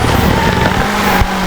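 Drift car in the FR Legends video game, its engine droning loud and steady with a brief dip near the end, tire noise mixed in, no talking.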